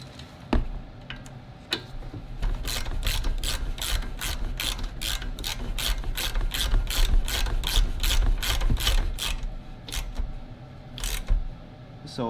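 A hand ratchet clicks in quick, even strokes while tightening and locking down a universal joint bearing on a Yamaha Big Bear 350 ATV, close and clear, with a few slower clicks before and after the main run.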